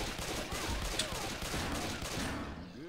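Gunfire rattles in rapid bursts during a Left 4 Dead 2 match as a player fights off a hunter; the shots are dense and continuous, mixed with game sounds and brief vocal cries.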